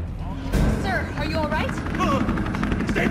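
A helicopter in the Resident Evil 3 Remake video game gives a steady, loud, low rumbling drone throughout, with game voices talking over it.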